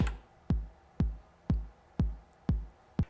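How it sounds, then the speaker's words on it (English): Roland 909 kick drum pattern at 121 BPM, four-on-the-floor thumps from a 90s beat, seven evenly spaced punchy booming hits with quick decays, alone. "let's lay down the kick drum"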